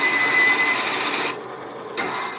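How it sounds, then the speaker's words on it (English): Forstner bit boring into wood end grain on a lathe at slow speed, a rough rasping grind that drops out briefly and then resumes, close and moderately loud with no talk. "Cutting into end grain is tough."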